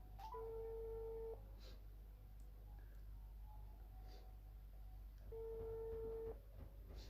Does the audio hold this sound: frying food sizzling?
no